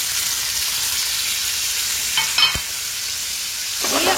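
Garlic cloves and oregano or mixed herbs sizzle steadily in a hot pan with oil, a close, even frying hiss, with a few soft scrapes and clinks of a spoon stirring.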